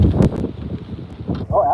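Wind gusts steadily against the microphone outdoors beside the water, a low, buffeting rumble that persists throughout with faint, muffled voices underneath.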